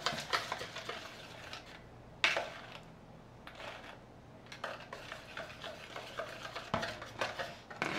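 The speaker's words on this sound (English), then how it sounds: "So just stir that up." Carrot cupcake batter with oil is stirred in a bowl, giving faint, intermittent scraping and clinking strokes of a utensil against the bowl with quiet gaps between them, no speech.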